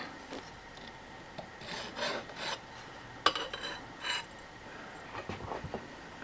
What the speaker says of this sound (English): Let's come in and deburr this.